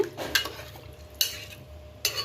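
A spoon scrapes through rice and vegetables in a pressure cooker for vegetable brinji rice, three distinct close metallic stirring strokes with soft shuffling between them and no talk.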